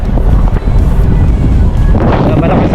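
Loud, gusty wind buffeting a microphone, a constant low roar with rumbling surges throughout.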